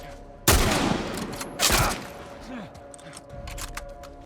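Gunfire in The Last of Us Part I, with two loud, close blasts about a second apart followed by clattering reload and handling noises, while a person talks over the action.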